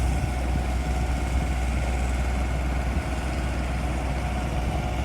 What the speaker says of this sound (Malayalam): നമ്മളെ ബോട്ട് വന്നു. പിള്ളേർ വരുന്ന ബോട്ട്.